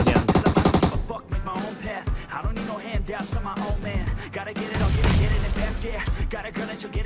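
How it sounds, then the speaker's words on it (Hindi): Gunfire rattles through a video game shootout, first in a rapid machine-gun burst, then in scattered shots and bursts mixed with busy game effects, loud and close throughout. "हिल हिल के गोलियां इसलिए मार रहा था"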